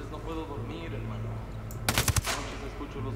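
A short burst of about four rapid suppressed gunshots sounds midway through a Ghost Recon Wildlands firefight, sharp and fairly loud over a low, steady ambient background.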